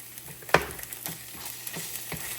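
Onions and garlic sauté in a hot pan with a steady low sizzle, punctuated by a few sharp utensil scrapes and stirring knocks, one louder clack near the start, no voices.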